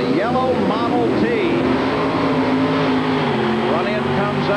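A Ford Model T replica competing in an indoor tractor pull at the Houston Astrodome, its engine droning steadily beneath a loud, echoing arena commentator who talks throughout.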